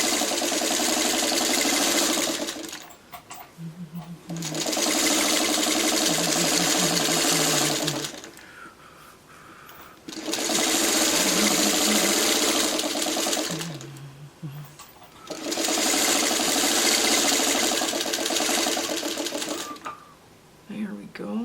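Sewing machine stitching a quilt block seam in three or four sustained whirring bursts, close and loud, separated by short pauses where a person talks quietly.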